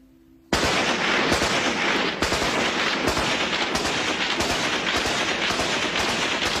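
Loud, dense gunfire from tribesmen's firearms in the Khyber Pass on the northwest frontier, bursting in after a brief quiet and then rolling on as rapid, overlapping shots and booming reports.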